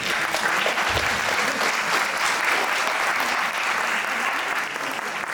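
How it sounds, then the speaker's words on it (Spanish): A loud, dense round of audience applause runs steadily for about five seconds at a talk on economy and entrepreneurship for older adults, fading slightly at the end. "Un aplauso para ellas, por favor"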